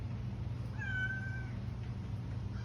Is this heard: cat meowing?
yes